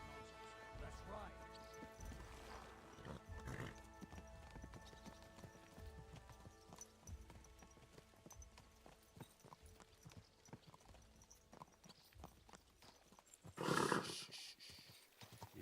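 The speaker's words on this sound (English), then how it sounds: "Easy, good horse." Faint horse hooves clip-clopping at a walk, with scattered voices and a dog panting nearby, then a louder rustle near the end.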